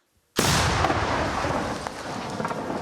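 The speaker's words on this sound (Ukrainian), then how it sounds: "стають до роботи гранатометники" A single loud, sharp blast erupts, then a long rumbling roar and echo trail off gradually, sounding like a grenade launcher firing outdoors.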